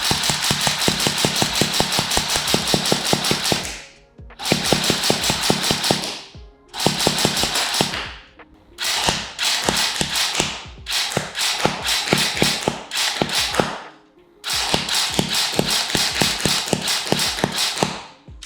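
An ICS CXP APE SE airsoft rifle fires 0.28 g BBs in semi-auto, shot offhand outdoors with no wind: rapid, evenly spaced mechanical shots come in several long bursts with brief pauses between them, loud and close, with no talking.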